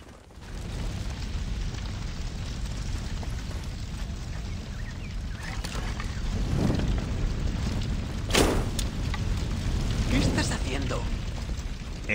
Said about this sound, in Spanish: Encendiendo fuegos.